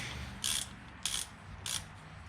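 A ratchet working bolts loose on a John Deere 830 tractor: three evenly spaced bursts of quick clicking ratchet strokes over a quiet background, close up and fairly faint, no talk.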